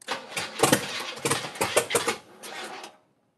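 A car engine started for the first time in a garage, cranking and sputtering in uneven bursts that rise and fall as it tries to catch, close and loud, then cutting out.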